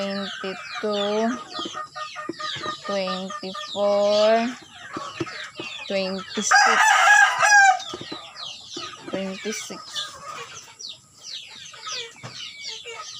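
Chickens on a farm cluck in scattered bursts while a rooster lets out a loud crow partway through, with a person talking intermittently over the birds.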